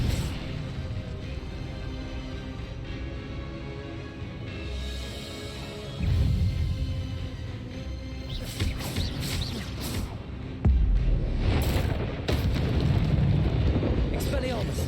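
Fiery bursts of the Incendio spell in Hogwarts Legacy, loud whooshing blasts with crackling flare-ups that come in waves among the game's combat sounds.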